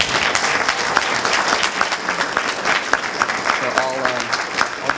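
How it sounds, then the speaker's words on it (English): Audience applause at a San Marino City Club evening gathering, steady dense clapping throughout, fairly close and loud, with a few voices murmuring underneath near the end. "Please give a warm round of applause for Dr."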